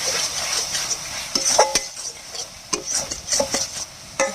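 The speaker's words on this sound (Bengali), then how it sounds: "এবার আবার মশলাটাকে নেড়ে দেবো" Spice masala stirred in a cooking pot for a village-style Bengali curry: scattered scraping and clinking strokes of a spoon against the pot over a soft frying sizzle, close and moderately loud, with no talk.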